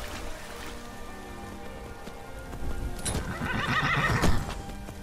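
A horse whinnies loudly over the clip-clop of hooves in the video game Skyrim, with a steady rain-like patter in the background.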